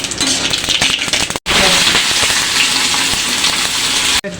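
Dried red chilli, whole garam masala and cumin seeds crackle and sizzle loudly in hot oil, a dense, steady hiss broken by two brief silent gaps, with no voices.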